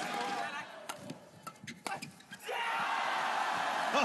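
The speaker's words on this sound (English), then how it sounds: "Oh, big cheer. Biggest one of the day from Chinese Taipei." Large crowd at a Sudirman Cup 2023 badminton doubles match, Chinese Taipei against Malaysia, breaking into a loud sustained cheer at match point after scattered shouts and claps.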